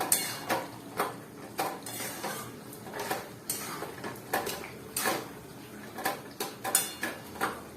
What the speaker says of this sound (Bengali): চিংড়ি মাছগুলো দিয়ে ভালোভাবে নেড়ে দিতে হবে।